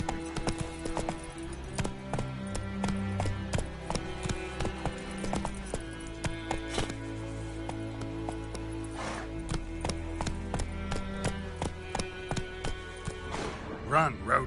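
Geralt's horse Roach galloping in The Witcher 3, a fast steady clip-clop of hooves running throughout, loud and close, with speech over the hoofbeats.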